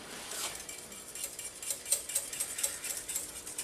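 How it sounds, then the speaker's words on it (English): Chocolate mousse mixture whisked in a bowl, a steady fast clatter of a metal whisk against the bowl's sides, fairly quiet and close, with no talking. "You just whisk, keep whisking this for about a minute or so."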